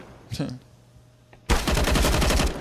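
AUG rifle fire in a Counter-Strike match on the Train map: after brief chatter and a pop, a loud, sustained burst of rapid automatic shots continues to the end.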